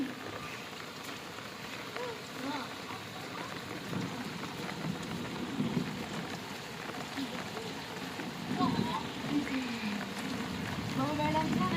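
Steady rain falls outdoors during a monsoon downpour, a continuous soft patter with faint voices in the background.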